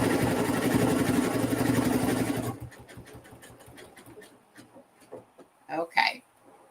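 A machine-embroidery sewing machine stitching at speed, a loud steady mechanical whir with rhythmic needle chatter that stops partway through, leaving faint clicks before someone begins talking.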